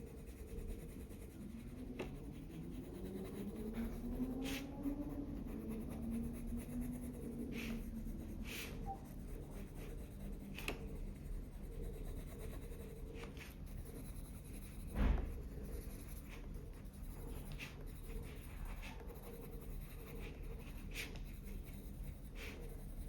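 Colored pencil shades skin tones on paper in a quiet room, a soft continuous scratchy rubbing with short stroke accents and one brief louder tap partway through.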